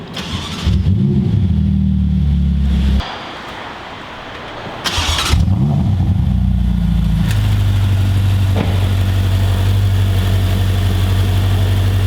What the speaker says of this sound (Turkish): Ardından engine start stop düğmesine basıyoruz. Bir kez daha basarak çalıştırıyoruz.